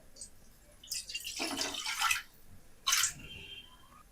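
A glass of water is poured into a pan while cooking vegetable Maggi noodles, heard as two short, close splashing gushes separated by a brief pause, fairly quiet overall.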